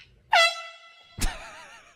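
Two loud air horn blasts go off as a prank in a library: a sharp, long, piercing blare followed by a shorter burst after a brief pause.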